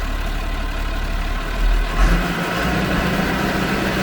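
A Massey Ferguson tractor engine drones steadily and loudly with a low mechanical hum as the PTO shaft is switched to 1000, with a brief surge and rumble partway through as the load shifts.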